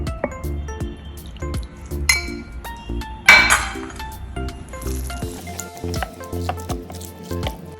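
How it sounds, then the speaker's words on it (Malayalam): Marinated chicken pieces are stirred with spice powder and a little water in a bowl, producing wet squishing and repeated sharp clinks of a utensil against the dish, close and fairly clear, with no talking. "നമുക്കൊരു ശകലം വെള്ളം കൂടെ ചേർത്തത് മിക്സ് ചെയ്യാം."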